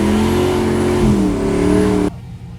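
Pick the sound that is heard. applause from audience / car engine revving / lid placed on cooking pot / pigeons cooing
car engine revving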